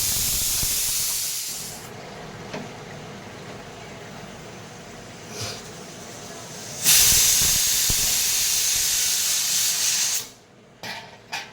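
A pressure cooker holding dal, potatoes and rice vents steam with a loud hiss that eases to a quieter rush, then bursts into a strong whistle for several seconds before cutting off.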